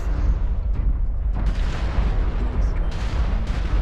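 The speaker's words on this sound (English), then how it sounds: "Warning, incoming missiles, magic beams." Incoming missile explosions in the MechWarrior Online video game, heard as a dense, continuous stream of heavy booming blasts and rumbling impacts, loud and close, with a couple of sharper bursts standing out.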